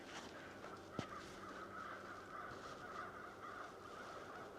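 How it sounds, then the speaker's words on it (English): A flock of crows caws and squabbles out by a snowy pond and hockey rink, faint, overlapping distant calls forming a continuous chatter with one sharper knock. "Sounds like a bunch of crows fighting with each other."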